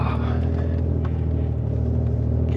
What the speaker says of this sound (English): Front tires, they are spinning.